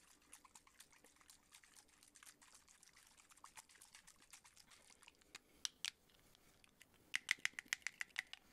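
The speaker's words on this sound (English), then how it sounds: "The third trigger is actually water." Water used as an ASMR trigger, with soft close-up trickling and dribbling sounds and light tapping clicks, quiet overall with a few sharper bursts near the end.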